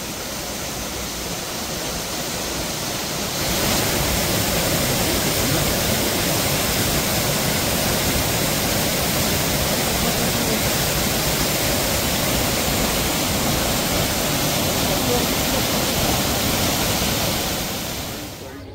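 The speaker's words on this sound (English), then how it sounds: "So here we are at Sajla waterfall" Sajla waterfall near Manali roars with rushing water, a loud broadband wash that swells after the first few seconds and holds steady, heard up close without talk.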